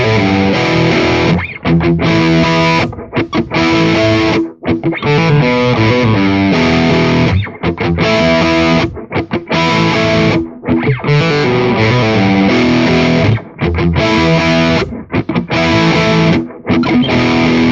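A heavily distorted electric guitar plays a fast, busy riff of quick hammered and pulled notes, loud and continuous with only brief breaks.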